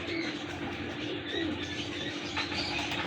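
An aged pigeon coos softly and steadily in a loft, with faint chirps and a brief flutter of wings in the background, no voices.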